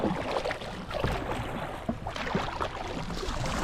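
Kayak paddles working the water on the Huron River, a steady wash of splashing and rippling with soft dips of the blade, close by and continuous, no voices.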